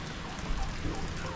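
Steady rain falling outdoors, a dense, even hiss of drops heard close and unbroken with no talk.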